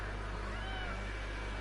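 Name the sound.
cat meowing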